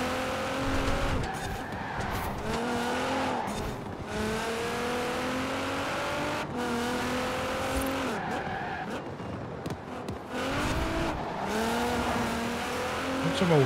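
A car drifts and skids through a night race in Forza Horizon 4, engine revving with rising and falling tones under repeated tire squeals, sustained and close, with occasional faint talk underneath.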